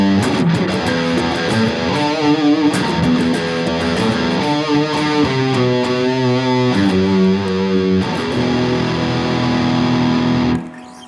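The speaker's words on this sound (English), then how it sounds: "that's the high gain tone I can get on a Strat" Stratocaster through an Angry Charlie pedal at high gain, thick distorted chords and riffing notes ringing out loud and close with no voices, ending on a held chord that cuts off.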